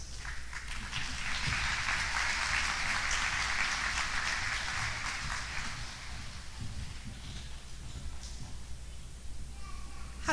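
Applause rolls through the hall at a nurse pinning ceremony, a full sustained round of clapping that gradually thins out toward the end, with faint voices underneath.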